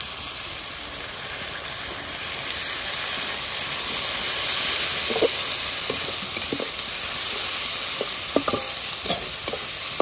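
Ground cumin-coriander paste with green and dried chili paste frying in a pan, a steady close hiss and sizzle with occasional faint stirring clicks, no voices.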